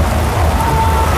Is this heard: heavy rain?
yes